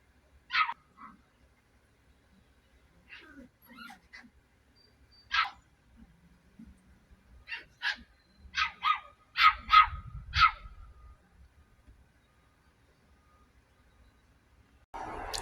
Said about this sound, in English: you may hear puppies yapping and barking and playing in the background of this video